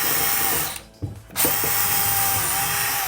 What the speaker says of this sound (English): So the first thing you want to do is pre-drill a hole before.